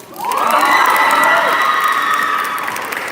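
A loud burst of cheering and shouting from a young audience at a Model UN closing ceremony, with high whoops and clapping that swells quickly and holds.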